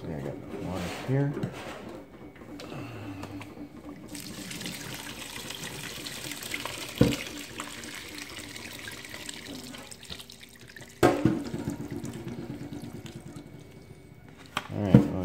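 Filtered water runs and splashes while sprouts are given a final rinse after dehulling, a soft steady flow with occasional clunks and handling noises and a person talking at times.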